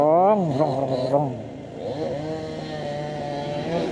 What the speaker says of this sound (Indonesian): Suara gergaji mesinnya keren deh.